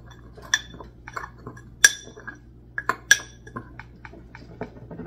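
A utensil stirs a seasoning mix of salt, onion powder, garlic powder and black pepper in a bowl, giving light scraping and a few bright clinks against the dish over a quiet background.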